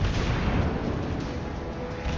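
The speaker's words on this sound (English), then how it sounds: "I heard more torpedoes launched." Torpedoes launching in World of Warships Blitz, heard as a steady, dull rumble of low booms and thuds that stays loud and continuous without distinct separate hits, with no talking over it.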